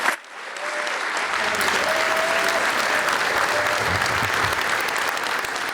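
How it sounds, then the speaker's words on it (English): Sustained applause from a large audience honoring award recipients at a town ceremony, loud and steady throughout after a brief quiet start, with a few faint whistles or cheers mixed in. "Let's have a round of applause for all of our honorees."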